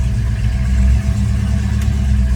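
A rebuilt Dodge Charger engine rumbles steadily on its first drive, with a loud, deep, continuous low-pitched drone from inside the car and a slight dip in the middle.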